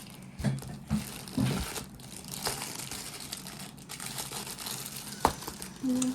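Plastic packaging on a new pencil case is torn open and crinkled, giving several close bursts of rustling and crunching with quieter pauses between them.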